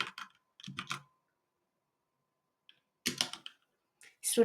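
Typing on a computer keyboard while entering a SQL command in phpMyAdmin: two short bursts of close, crisp key clicks separated by a silent pause, with no talking.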